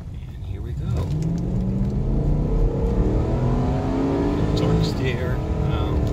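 A 1993 Cadillac Eldorado ETC Touring coupe accelerating through the gears, engine note rising and falling across gear changes with a steady interior drone and road noise, loud and continuous from the cabin.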